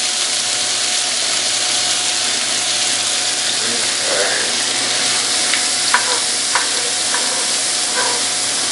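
Bell pepper, celery and sweet onion sizzle steadily in a hot pan, a continuous frying hiss with a few soft stirring clicks and scrapes partway through, with no talking.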